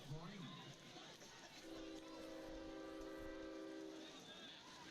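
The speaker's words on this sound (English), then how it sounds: "And the train's coming through." A train whistle sounds at a high school playoff football game, blown after a touchdown as a celebration, with two long sustained horn-like tones held steadily for about two and a half seconds over constant crowd and stadium noise.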